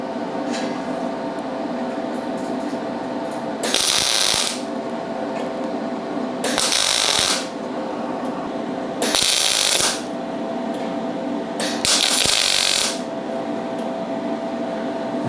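Tack welding with a dent puller stud welder on a car body panel: four short, loud bursts of harsh crackling buzz, each about a second long, spaced a few seconds apart over a steady background hum.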